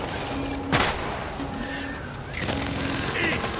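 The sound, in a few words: pistol gunshots in Deep Rock Galactic video game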